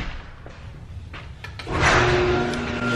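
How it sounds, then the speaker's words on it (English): A residential garage door starts opening after a few faint knocks, its motor rising into a steady, fairly close mechanical rumble with a droning hum that continues to the end. "The garage door's opening."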